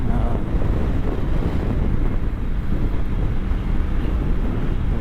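Steady, loud wind buffeting rushes over the microphone throughout a Triumph Tiger 900 motorcycle ride on a gusty day, a dense low roar with no voices.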